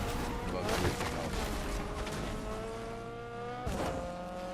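Cars in the Fortnite video game: a steady engine drone with rising revs, broken by two sharp impact-like bursts, heard under a talking voice.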